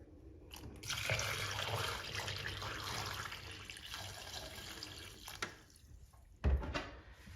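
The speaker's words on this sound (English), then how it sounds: "We're going to put in some more water." Water poured into a Sani Bot D3X CPAP cleaner, a steady splashing pour lasting several seconds that stops, followed by a brief thump of handling.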